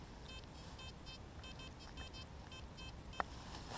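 A metal detector sweeping a forest lakeshore in Finland gives faint, repeated short electronic beeps in a rhythmic run that fades out, with a single sharp click near the end, all quiet and without talk.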